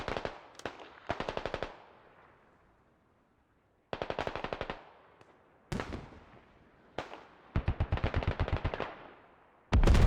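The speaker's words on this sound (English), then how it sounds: "Hell cannon round." Hell cannon propane mortar rounds and gunfire in an insurgent infantry battle video game, with repeated bursts of rapid cracking shots separated by brief pauses and a heavy blast near the end.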